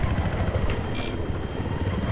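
Helicopter rotor thumping steadily overhead in the Battlefield 3 video game, a loud, continuous low chop dominating the short stretch with no talk.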